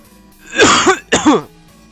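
Two harsh, close throat-clearing coughs follow a gulp of water gone down the wrong way, each a loud burst about half a second long, separated by a short pause, with quiet room tone around them.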